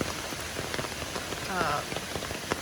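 Steady rain patters on surfaces at a waterfall deck of a wooded cabin in Brevard, North Carolina, a dense, even hiss of drops with faint sounds in the background.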